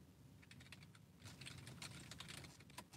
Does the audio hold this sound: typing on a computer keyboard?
yes